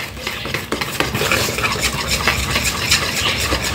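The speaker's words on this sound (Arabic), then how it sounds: "ونقلب بالويسك بتاعنا، نقلب نقلب نقلب" A whisk beats a batter of milk, sugar, melted butter and egg in a bowl, a continuous fast scraping and rattling against the sides without pause.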